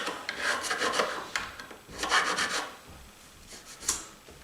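Hand filing smooths the end of a Roscelli Cavalier Rhythm King accordion part, a close, dry rasp in several uneven bursts of strokes with short pauses between them.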